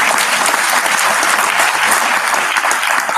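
An audience claps steadily for Elizabeth, a woman singled out in the room, with dense, loud applause that holds evenly from start to finish and has no voices on top.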